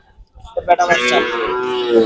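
A Friesian dairy cow lets out a single long, loud moo lasting nearly two seconds, close by, after a few faint knocks and shuffles.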